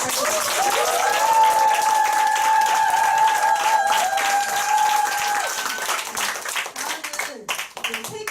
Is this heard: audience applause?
yes